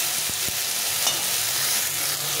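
Spices sizzle steadily in a pan with green and dried red chillies for a chana dal masala, a constant hiss broken by a few soft stirring knocks near the start, close and alone.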